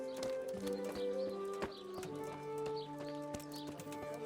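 Horse hooves clip-clopping in Kingdom Come: Deliverance: faint, fairly regular hoof knocks over soft background music and occasional birdsong.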